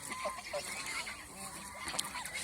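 Geese on a Bangladeshi goose farm giving scattered, fairly faint honks and calls at moderate distance, with some quiet background voices.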